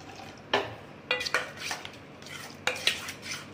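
A spoon stirs a thick paste of poha and yogurt in a bowl, knocking and scraping in irregular bursts, close and fairly loud, with no voices.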